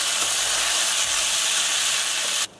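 Well-dried rice for pilaf sizzles in a hot pan over lowered heat as it is stirred, giving a loud, steady frying hiss that cuts off sharply near the end.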